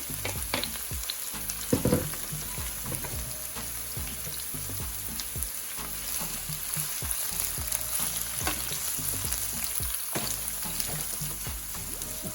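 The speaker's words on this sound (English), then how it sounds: "saute for a little bit" Thyme, pepper and scallions sautéing in a pan for ackee and saltfish, a steady close sizzle and crackle with occasional stirring scrapes, continuous and without speech.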